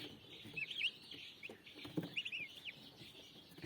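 Newly hatched turkey chicks in a brooder under an infrared lamp, giving a few faint high peeping calls in short bursts over quiet background noise.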